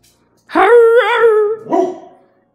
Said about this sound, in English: And that there is a dog.